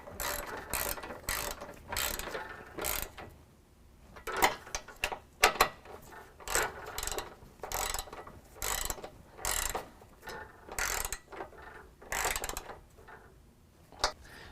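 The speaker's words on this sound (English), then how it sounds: "Now we're going to tighten up our center bracket," A 13mm ratchet tightens the center bracket nuts of an Iron Cross HD step on a 2018 Ford F-250, giving repeated close bursts of quick clicking with short pauses between them.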